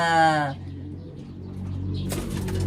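Racing pigeon cooing in a loft, one soft cooing call near the mic amid low background murmur, followed by a brief rustle or flutter.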